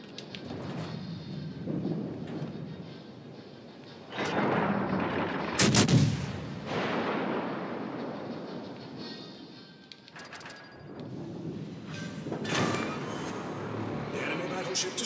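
Warship main guns boom in a naval battle game, several heavy salvos with long rumbling tails spread across the stretch, one sharp crack standing out midway, while someone talks over the gunfire.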